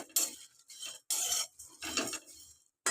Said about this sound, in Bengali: এবার এইটাকে একটু ভেজে নেব